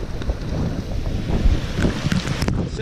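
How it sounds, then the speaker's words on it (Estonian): Strong gusting wind roars against a seaside wall at Paldiski during a storm, blowing falling water back upward; loud, continuous buffeting with heavy microphone wind noise and no talking. "ja tuul puhub ta alt mööda seina kohe uuesti ülesse."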